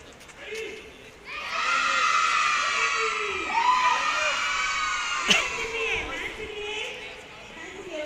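A crowd of children shouts and cheers together in a sustained, excited roar during games at Gachibowli stadium, swelling for several seconds before easing off as an adult talks over it.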